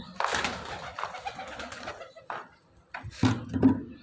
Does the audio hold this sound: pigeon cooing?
yes